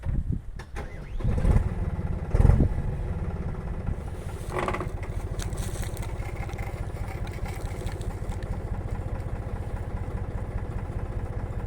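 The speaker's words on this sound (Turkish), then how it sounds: "traktörümüzü çalıştırıp yani suyun devir daim yapmasını" A tractor engine cranks and fires into life, then settles into a steady, rumbling idle to circulate water in a sprayer tank, heard close by and alone with no talking.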